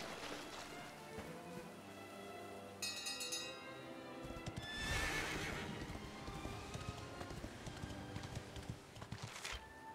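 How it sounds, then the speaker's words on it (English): A horse in Dragon Quest XI S whinnies and its hooves clip-clop in a steady trotting rhythm, clear and moderately loud, with a brighter chime-like game sound briefly layered in. "Can get the horse."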